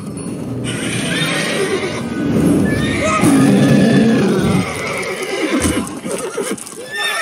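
Roach, Geralt's horse in The Witcher 3, gives a loud, close, drawn-out neigh and whinny lasting several seconds, with snorting and a few hoof clops toward the end.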